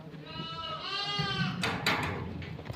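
A sheep being grazed by an elderly herder gives one wavering, nasal bleat up close, followed by scuffling and rustling noises outdoors.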